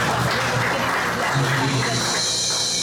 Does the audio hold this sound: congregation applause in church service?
yes